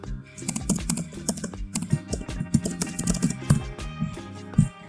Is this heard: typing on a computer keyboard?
yes